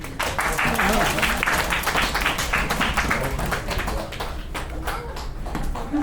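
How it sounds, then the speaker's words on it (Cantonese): A church congregation claps hands together in a dense, steady burst of applause that gradually thins out, with voices faintly mixed in. "拍掌啦！"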